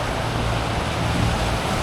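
Clear Creek rushes past in Buffalo, Wyoming, making a steady broadband roar of flowing water heard up close, loud and unbroken with no voices over it.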